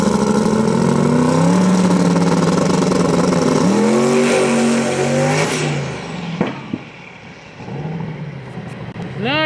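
A turbocharged drag racing car at Virginia Motorsports Park, close and loud, revs hard with rising engine pitch that climbs, shifts and climbs again before fading, ending with a couple of sharp pops.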